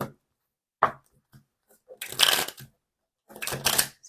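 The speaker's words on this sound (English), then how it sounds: "We're going to put them back in the deck and shuffle." Tarot cards are shuffled in short, crisp riffling bursts, close and fairly loud, with two longer flurries separated by quiet pauses and scattered light taps between.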